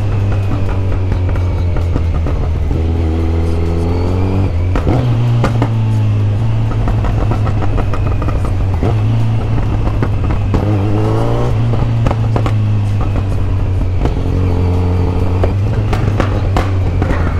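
A 2021 Kawasaki Z900 motorcycle fitted with a quickshifter accelerates hard, its loud, close engine roar rising through repeated quick gear shifts, each marked by a brief dip before the revs climb again.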